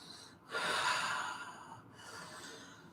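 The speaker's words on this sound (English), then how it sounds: "Breathing" Deep, steady breathing during a live yoga class, with a long drawn inhale or exhale that swells near the start and a softer second breath later, heard close and alone without speech.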